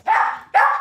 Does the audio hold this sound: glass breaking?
no